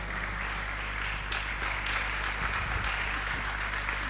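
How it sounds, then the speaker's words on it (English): An audience claps steadily throughout, with a dense, even patter over a low hum and a few sharper claps near the middle. The applause closes a mock interview session. "a round of applause."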